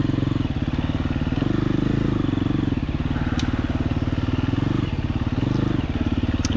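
Dual sport motorcycles on a Wisconsin group ride, an engine chugging in a steady fast low pulse close by, holding a rough even throttle throughout without talk.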